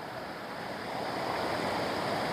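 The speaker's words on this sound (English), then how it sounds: "my whole persona is lightened just by sitting here on the rock listening to the water" Water pours steadily at a waterfall in Scotland, a dense, constant rushing wash heard close and unbroken throughout, fairly quiet overall.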